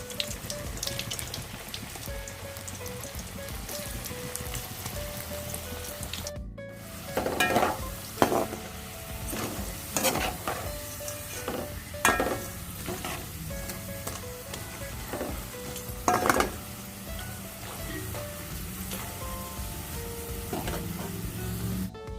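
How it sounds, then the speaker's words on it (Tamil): Cassava chips frying in hot oil, a steady close sizzle and crackle with occasional louder stirring scrapes and bursts of bubbling. "இந்த இதில் நம்ம மரவள்ளிக்கிழங்கு எல்லாத்தையும் அதில் போட்டுக்கலாம்."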